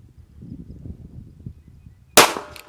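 A single loud, sharp report from a Bersa Thunder .380 ACP pistol at the range, bursting out near the end with a short ringing decay after a stretch of low rumbling background noise.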